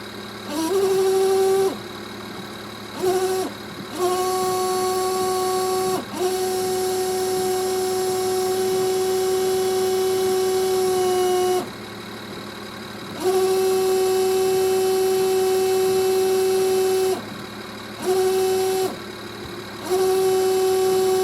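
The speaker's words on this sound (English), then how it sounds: "I'm just going to use the pump now" Windscreen washer pump on a 2007 BMW E93 running in repeated bursts, a steady whirring electric whine that switches on and off in stages of several seconds, close and fairly loud, with no talking.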